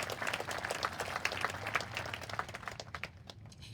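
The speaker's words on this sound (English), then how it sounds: "Round of applause for Julianne." Audience applause at a graduation ceremony, a dense steady wash of many hands clapping that carries on for the whole stretch before thinning slightly near the end.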